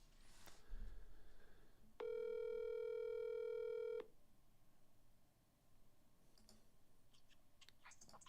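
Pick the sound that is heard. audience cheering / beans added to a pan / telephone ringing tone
telephone ringing tone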